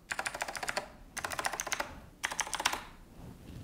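Typing on a keyboard with clicky Razer Green mechanical switches: three quick bursts of sharp, crisp key clicks in rapid rhythm, close and moderately loud, with short pauses between.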